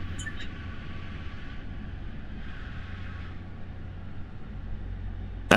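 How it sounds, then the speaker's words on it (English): A Class 180 Adelante diesel train in the Roblox game slows down with a steady, continuous low rumble and engine drone that holds evenly throughout. "Right, we'll slow the train right down."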